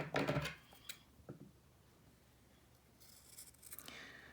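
Scissors cutting through two stacked pieces of print fabric, a few faint close snips and rustles, with a quieter gap in between.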